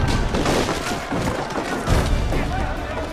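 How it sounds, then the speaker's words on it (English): Historical wooden barrels exploding in Assassin's Creed 3, heard as a dense, continuous run of crashing, splintering wood and booming impacts, loud throughout with a heavier burst near the end. "it also gave us an opportunity to include some historical exploding barrels"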